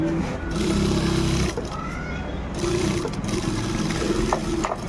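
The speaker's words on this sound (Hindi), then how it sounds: "इस तरीके से फिर हम इसे एक सिलाई इधर मारेंगे ताकि मजबूताई कॉलर की और स्टोन की ज्वाइंट रहे।" A sewing machine runs in steady bursts while stitching a gents' shirt collar seam, a close, continuous mechanical whir that pauses briefly before resuming.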